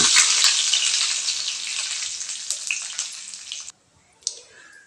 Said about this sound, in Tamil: அடுப்பில் கடாய் வச்சு எண்ணெய் ஊற்றி கடுகு சேர்த்துக்கலாங்க கருவேப்பிலை ஒரு போட்டுக்கலாங்க